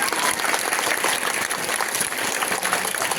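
Sustained applause from a school parent-teacher meeting audience welcoming Chhotu Kumar, the top-ranked student, dense steady clapping throughout at even loudness.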